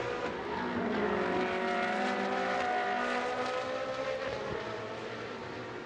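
Racing superbikes from the Pirelli R1 trophy at Jerez de la Frontera roar through a chicane, a loud continuous engine drone with shifting tones as the bikes brake and accelerate, close and sustained throughout.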